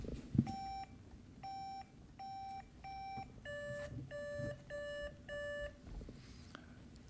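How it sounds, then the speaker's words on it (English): Electronic beeps sound in short pairs, two tones in one group and then a higher set repeating, clear and evenly spaced over a quiet room. "why don't we take this opportunity to check your buzzers real quickly"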